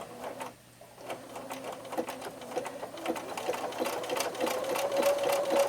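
A Bernina sewing machine stitches a buttonhole with the 3A buttonhole foot, a fast, even mechanical needle patter running close and steady after a brief pause near the start.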